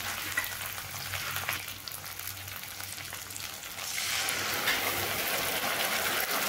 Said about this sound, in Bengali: টমেটোগুলোকে একটু এভাবে ভেজে নেব।